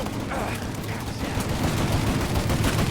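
Gunfire in a Mafia: Definitive Edition shootout crackles as dense, continuous bursts that sound like a sustained firefight filling the whole stretch.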